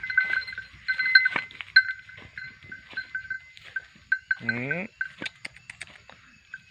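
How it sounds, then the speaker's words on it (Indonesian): Bali cattle, the red breed, graze in an oil palm plantation; one short, low call rises briefly partway through, set against steady nearby birdsong and scattered light knocks. "Namanya sapi Bali, sapi merah."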